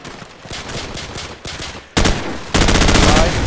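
Gunfire in Call of Duty 4 multiplayer, a few spaced single shots then sustained rapid automatic bursts that grow louder and denser, close and sharp.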